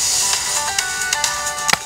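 A telephone ringtone for an incoming call sounds near and loud, a bright electronic tune of quick repeated notes lasting just under two seconds with no talk over it.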